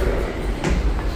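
A train ride heard from inside the carriage: a loud, continuous low rumble of rolling wheels and rattling car body, steady and close throughout.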